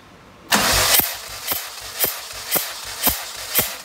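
A car engine cranks on the starter during a compression test on cylinder 1, with a steady run of strong compression pulses about twice a second, loud and close, and no talking.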